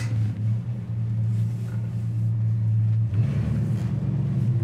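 A 1969 Ford Mustang coupe with a 351 engine drives along, its steady low engine rumble loud and continuous, with a slight shift in tone partway through as it picks up.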